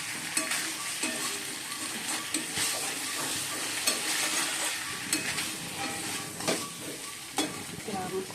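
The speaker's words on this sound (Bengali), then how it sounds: "দিয়ে ভালো করে কষিয়ে নেবো।" Fish curry with potato and pointed gourd being sautéed in a pan, with bata and katla fish already fried: steady close sizzling and frying hiss broken by repeated stirring scrapes and clinks of a utensil.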